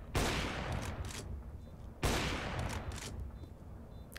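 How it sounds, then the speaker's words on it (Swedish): Gunfire in a competitive video game match, with two sharp bursts of shots about two seconds apart, each trailing into a noisy decay with smaller pops between. "Jag sätter nästan skotten på Emil igenom."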